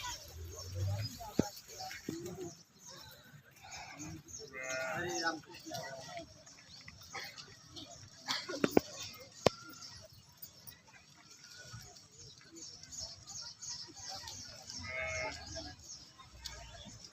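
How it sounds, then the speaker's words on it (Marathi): Calves being fed fodder at a shrine farm, with occasional moos and other livestock calls scattered over background murmur, as people talk nearby throughout. "हे बघा असे पिल्ल कशी चारा खातात"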